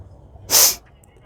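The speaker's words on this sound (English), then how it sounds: "I've got a sneeze brewing" One sharp, loud sneeze bursts out close to the microphone, brief and hissy, with near silence before and after.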